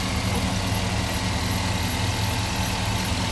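A Chevrolet Silverado pickup truck engine with dual exhaust idles steadily close by, a low, even rumble with a constant throb and no other sounds.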